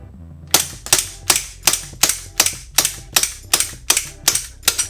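An ICS SAR 9 gas airsoft pistol fires eleven sharp, evenly spaced shots at a quick steady rhythm, each crisp crack with a metallic slide clack, loud and close.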